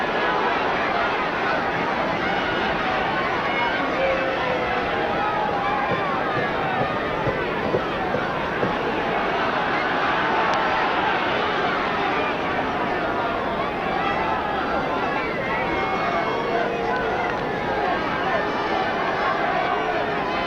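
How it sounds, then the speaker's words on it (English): A large football crowd at The Dell during Southampton versus Sporting in a 1981 UEFA Cup tie, a dense continuous roar of urging voices, with a commentator talking over it. "Crowd encouraging the Hungarian to get on with it."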